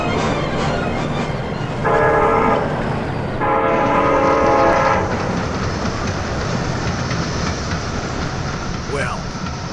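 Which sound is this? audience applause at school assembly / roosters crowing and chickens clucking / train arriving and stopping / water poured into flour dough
train arriving and stopping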